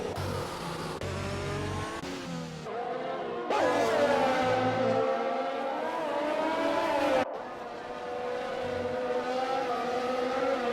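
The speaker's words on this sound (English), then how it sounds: "I hate that glitched engine sound." Engine of a race car in an Xbox One racing game with a glitched engine sound, droning and revving steadily at close range with abrupt cuts and shifts in pitch, while commentators talk over it.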